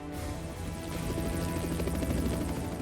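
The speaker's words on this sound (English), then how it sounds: "The Russian helicopter waves took off towards the Ukrainian border." Military helicopters heading toward the Ukrainian border during the Russia-Ukraine war, at the Battle of Hostomel (Antonov Airport), give a loud, steady rotor drone with rhythmic blade chop that holds near and constant throughout.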